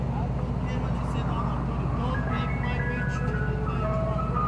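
An ice cream truck plays its jingle, the tune coming through over a steady engine rumble, while people talk close by.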